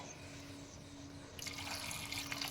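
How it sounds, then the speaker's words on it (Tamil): Water pouring into a clay pot while cooking kavathu kilangu, starting as faint background noise and then turning into a soft, steady splashing stream close by. "முழுகிற வரைக்கும் தண்ணி ஊற்ற போகிறேன்."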